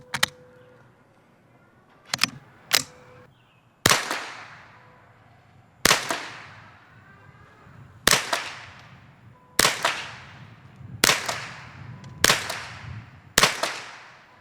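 Eight sharp .22 LR rifle shots, each a crisp crack with a short trailing decay, fired into a watermelon outdoors at irregular intervals of one to two seconds, the first few closer together.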